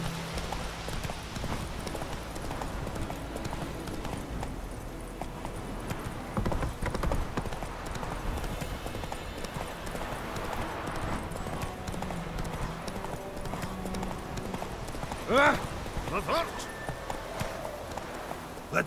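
A horse gallops in The Witcher 3 video game, its hooves pounding out a steady rapid clip-clop beneath game music, with a brief whinny near the end and a voice speaking at points.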